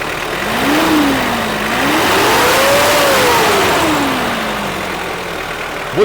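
Toyota Vios engine being revved in a garage while a knocking fault is checked, one slow rev that climbs, holds and then eases back to idle, loud and close with no talking.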